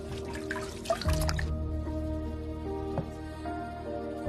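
Water trickles and drips into a basin during a foot washing, a splash near the start, then soft, irregular drips and a low watery hum, close and fairly quiet.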